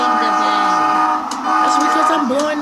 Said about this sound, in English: I'm blowing the horn so people can know that I'm coming.